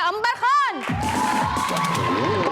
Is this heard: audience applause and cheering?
yes